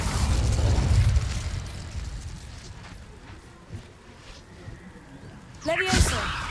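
An Incendio fire spell bursts in Hogwarts Legacy with a loud whooshing blast at the start, a quieter lull, then a second sharp fiery burst near the end, under spoken words.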